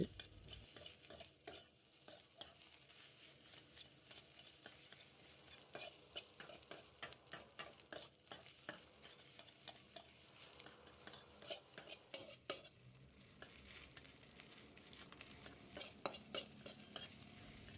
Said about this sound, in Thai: ใช้ไฟกลางผัดไปเรื่อย ๆ นะคะ อย่าใช้ไฟแรง อ่ะผัดไปจนกว่าข้าวจะสีเหลืองสวย